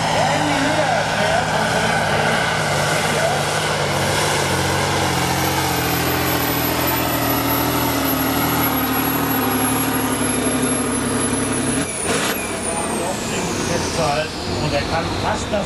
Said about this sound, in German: Sie hören, dass jetzt der Ladedruck aufgebaut wird für den K700.